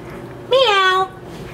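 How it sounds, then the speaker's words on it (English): A single drawn-out, meow-like call rises then slides downward, loud and close, lasting about half a second in an otherwise quiet moment. "Hey lemurs, can you go meow?"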